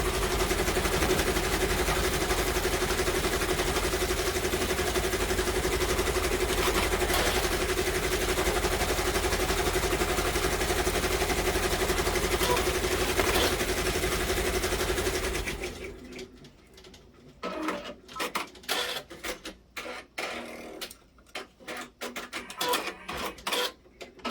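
A Brother embroidery machine stitches a design in a rapid, steady mechanical chatter for about fifteen seconds, then stops; afterward come scattered clicks and handling knocks from close by.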